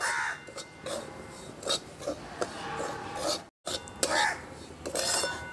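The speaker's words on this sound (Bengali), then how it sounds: "সুজিটা আমি হালকা করে নাড়াচাড়া করে নিয়েছি।" A utensil scrapes and stirs semolina in hot ghee in a pan, with repeated gritty rasps and metallic scrapes in an uneven rhythm, briefly broken by a short silence, with no talking.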